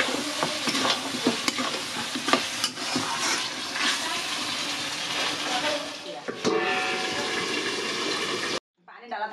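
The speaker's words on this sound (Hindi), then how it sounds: "मसाला देके फ्राई करत हन मान लो" Spiced food frying and being stirred in a pan in a rural Bihari household kitchen in Assam, India: a steady loud sizzle with repeated scraping stir strokes, close up, ending with a brief pause.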